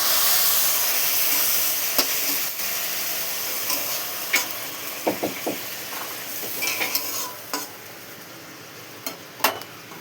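Ridge gourd, chickpeas and coconut cooking in a pan after a little water is added, a soft steady steam hiss with scattered light clicks and stirring taps, close and fairly quiet.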